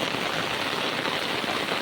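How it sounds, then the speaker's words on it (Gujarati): Heavy winter rain pours down steadily in a dense, even hiss with a constant drumming of drops, loud and close, with no voices. "અને વરસાદ હજી વધતો જાય છે મિત્રો. જુઓ કેટલો વરસાદ પડે છે આમાં"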